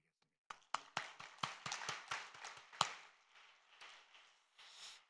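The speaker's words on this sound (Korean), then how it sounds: "우리 축복의 박수 한번 해드리겠습니다" Scattered clapping from a small congregation at an evening prayer-festival service at Osanri Prayer Mountain, starting as a few sharp claps, swelling into a loose ragged round and then tapering off.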